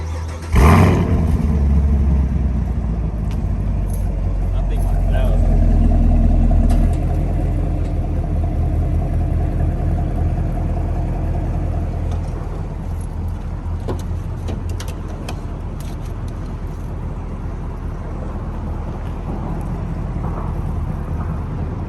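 A Chevrolet Camaro SS on its stock exhaust starts with a sharp burst, then swells into a deep, loud rumble of revving before settling into a steady, heavy idle nearby, with no talking.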